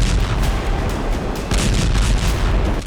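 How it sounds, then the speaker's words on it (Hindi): Explosions from a Ukrainian drone strike on a Russian weapons supply depot near the front line: a dense, continuous roar of booming blasts and rumbling, loud and sustained throughout with no voices. "एक के बाद एक 4 धमाके हुए और फ्रंट लाइन पर हथियार सप्लाई करने वाला रूस का गोदाम तबाह"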